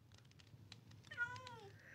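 A Minecraft cat gives a single short, clear meow near the end, rising then falling. It sounds close but soft over a quiet background hum, and a few faint clicks come before it.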